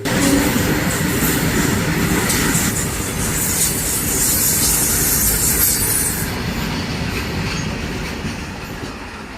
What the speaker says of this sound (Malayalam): ജിഗൂട്ടി ലോക്കോ ഷെഡിൻ്റെ ഒരു WAG9 ലോക്കോയുമായി ഒരു ഗുഡ്സ് ട്രെയിനാണ് ഇപ്പോൾ കടന്നു പോയിക്കൊണ്ടിരിക്കുന്നത്.